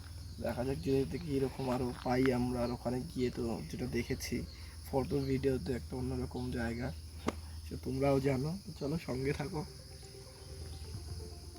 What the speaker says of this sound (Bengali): পাখি ডাকছে ঝিঝি এরকম।